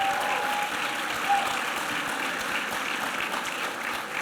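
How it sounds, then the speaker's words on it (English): A crowd at a student awards ceremony claps for honored students, steady dense applause holding at an even level for the whole stretch with no talk over it. "Come on, let's give them a round of applause."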